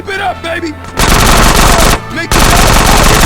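Rapid automatic gunfire from enemies in GTA San Andreas, loud dense bursts that break off briefly and then resume, with a voice talking at the very start.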